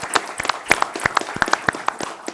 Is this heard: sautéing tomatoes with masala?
no